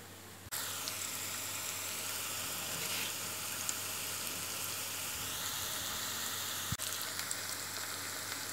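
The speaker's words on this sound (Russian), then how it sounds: "Сейчас я обжарю лук" Chopped onion frying in a pan for Georgian green bean lobio, a constant close crackling sizzle that sets in abruptly and holds steady, with one sharp clink near the end and no talking.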